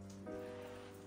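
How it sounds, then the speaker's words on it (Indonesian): Rain falling in a steady, even patter, with a low tonal hum running underneath. "Aduh, ini hujan"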